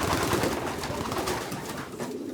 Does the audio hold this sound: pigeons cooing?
yes